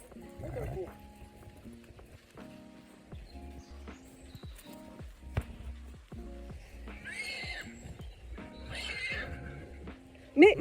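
A horse neighs and whinnies, with rhythmic hoofbeats across the clip; people chat in French throughout, and a sharp loud burst lands at the very end.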